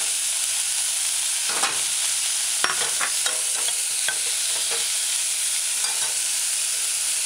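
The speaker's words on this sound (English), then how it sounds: "Add herbs. Stir it in a few times." A pan of sautéed onions, scallion and chopped tomatoes sizzles steadily as herbs are stirred in with a few scraping strokes, loud and close with no talking.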